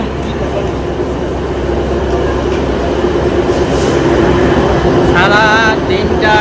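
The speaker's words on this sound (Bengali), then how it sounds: "আমাদের ট্রেন এখন আমাদেরকে ছেড়ে চলে যাচ্ছে" A loud, continuous low rumble and clatter of a train departing Raiganj station nearby, with people talking over it and a brief squeal near the end.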